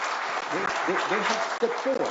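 Audience at a presidential economic dialogue breaks into applause, a loud sustained clatter of clapping that runs under someone speaking over it.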